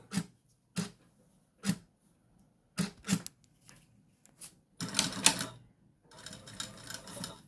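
A sewing machine stitching a placemat with piping in short bursts: several brief separate runs of clatter, then two longer continuous runs near the end, all fairly quiet and close.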